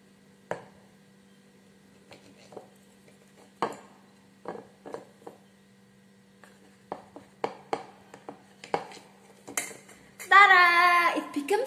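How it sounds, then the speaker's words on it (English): A knife cuts a square of breakfast food in half, giving a series of scattered sharp taps and clicks of blade and utensils against a plate under a low steady hum, followed by a brief spoken exclamation at the end. "cut it with my knife?"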